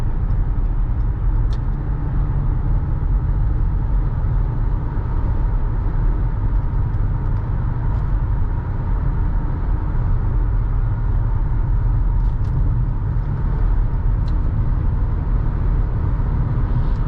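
Steady low road rumble and engine hum fill the cabin of a 2018 Toyota Highlander XLE with an 8-speed automatic as it drives around town, an even, fairly quiet drone with faint occasional ticks and no talking.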